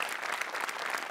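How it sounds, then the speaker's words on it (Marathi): A studio audience at a Marathi comedy show bursts into loud, sustained applause, dense clapping filling the space with no pause. "मोठेसाठी एकदा जोरदार टाळ्या"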